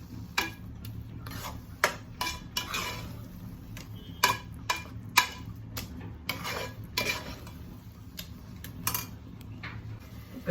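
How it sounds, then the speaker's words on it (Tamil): A spoon scrapes and clinks against a pan as mango thokku with asafoetida is stirred and sautéed in oil, giving irregular close metallic taps over a low steady sizzle. "இதோட சேர்ந்து எல்லாம் நல்லா வதங்கட்டும்"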